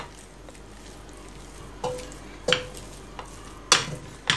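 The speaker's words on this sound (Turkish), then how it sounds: "Böyle sabırla yavaş yavaş biraz karıştırarak" Eggs being stirred into choux pastry dough for profiteroles, a soft wet sloshing with a few sharp clicks of the spoon against the pan, close and fairly quiet with no talking.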